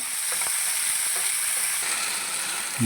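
Chopped onions and tomatoes fry in a pan with a steady, close, hissing sizzle that carries on evenly, with no talking.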